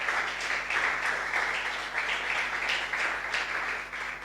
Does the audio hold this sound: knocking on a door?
no